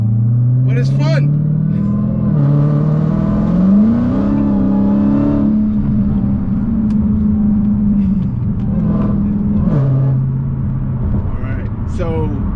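A stripped-down Dodge Hellcat with its seats removed drives along with a steady, loud engine rumble that swells as the car revs and accelerates, heard from inside the cabin while people talk over it.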